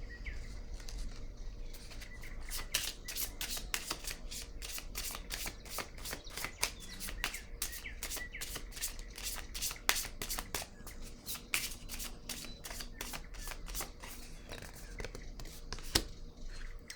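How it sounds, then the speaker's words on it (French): A deck of cards is shuffled, with a rapid run of crisp riffling flicks close by in a quiet room before a card is laid down. "Je vais déposer une carte sur la lumière à l'envers."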